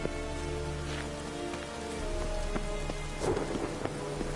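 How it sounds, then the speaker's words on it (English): Steady heavy rain pours in a Witcher 3 video game storm, with a low rolling rumble of thunder underneath and a louder crack of thunder swelling midway; no talk. "A storm, damn it."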